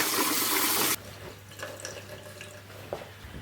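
Tap water runs hard into a sink while hands wash up after coating potatoes, a loud rushing gush that cuts off abruptly after a second, leaving faint drips and light clatter.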